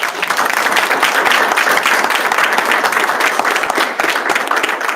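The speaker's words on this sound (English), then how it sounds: "So give them a round of applause." In-person audience at a panel discussion applauds a round for the panelists, with dense, steady clapping that stays loud and continuous throughout.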